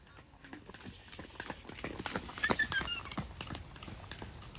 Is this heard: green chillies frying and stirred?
no